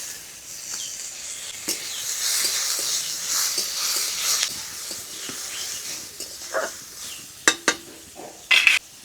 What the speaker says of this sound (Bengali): আর দিয়ে দেবো কুচানো টমেটো।